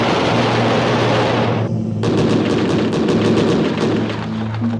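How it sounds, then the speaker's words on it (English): Six-barrel cannon on an attack aircraft firing, a loud, harsh continuous roar of rapid shots that breaks off briefly and then resumes in a fast pulsing burst. "The powerful 6-barrel cannon deserves a separate attention."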